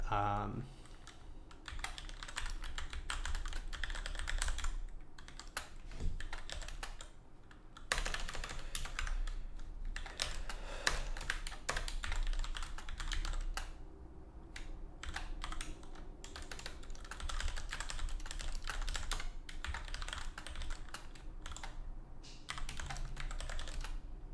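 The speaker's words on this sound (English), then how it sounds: "I'm just going to type these out and then we can go over it." Continuous, fast computer keyboard typing during a League of Legends midlane coaching session, with clicks packed densely over background hum and occasional talking underneath.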